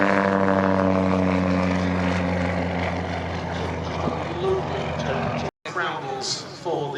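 A steady, loud, droning hum from an Avro Anson C19 propeller aeroplane displaying at the Shuttleworth airshow, its engine drone holding close and even, a voice talking over it, and a brief dropout near the end.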